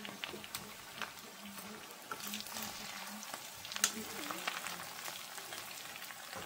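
Ginger garlic spice paste fries in a pan, a continuous close bubbling sizzle with crackles and occasional stirring scrapes, with faint voice sounds in the background.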